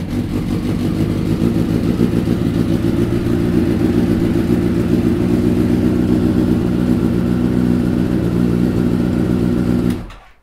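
A motorcycle engine runs steadily and loudly for about ten seconds, a dense mid-low rumble with a fast even pulse, then cuts off abruptly at the end; no talking.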